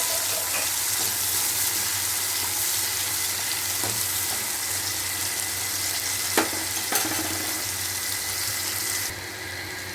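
Small shallots fry in hot oil with cumin for a fish curry, giving a loud, continuous close sizzle with a couple of faint clinks near the end and no voices.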